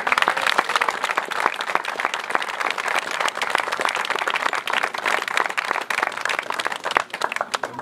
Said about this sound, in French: Je vous demande de les acclamer bien fort.